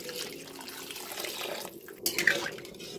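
Water is poured into a pot while chicken biryani cooks, a steady soft splashing stream with a brighter burst near the end, fairly close.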